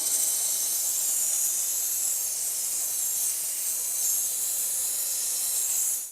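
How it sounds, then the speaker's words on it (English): A steam cleaner hisses continuously and evenly while cleaning the engine bay of a modified Trans Am WS6, a close, loud, unbroken airy spray with no voices. "we're gonna make it look really nice with the steamer."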